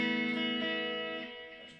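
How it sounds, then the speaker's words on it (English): An electric guitar runs through a Line 6 POD HD500 with chorus and ping pong delay, a sustained shimmering chord that slowly decays as the delay repeats. "Some extra delay, so you kind of get that ping pong effect."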